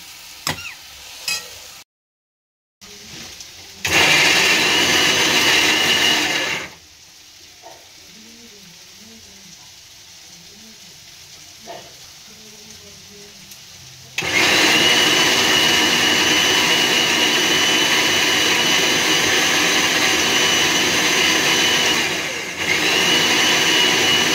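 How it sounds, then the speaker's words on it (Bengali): A kitchen mixer grinder blending a fried pointed gourd mixture, running loud and close in two long whirring bursts separated by a quieter pause with faint clatter. "এবার আমি মিক্সিতে দিয়ে মিক্স করে নেব।"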